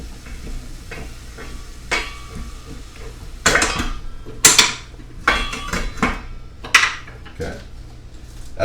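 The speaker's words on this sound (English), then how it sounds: "Get that turkey in there moving around with the Italian seasoning." Ground turkey with Italian seasoning stirred in a pan over a high flame, with repeated scraping and clanking of a utensil against the pan over a soft background sizzle, the strokes irregular and close.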